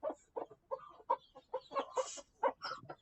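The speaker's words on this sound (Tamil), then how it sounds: "கோழி கொக்கரக்கோ சும்மா இருங்க" A chicken or rooster in the mobile battle-royale game Free Fire gives a run of quick, rhythmic clucking calls, close and clear, with no talk over them.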